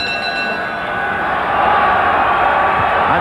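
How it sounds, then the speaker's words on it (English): Boxing crowd at Wembley during a 1972 title fight, roaring and cheering in a dense, steady wall of noise that swells louder halfway through. "And this crowd at Wembley now really roaring Finnigan back into this."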